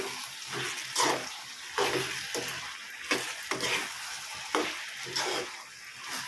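A spoonful of salt is stirred into vegetables cooking in a pan, with rhythmic scraping strokes over a soft, moist sizzle. Close but fairly quiet, with no talking.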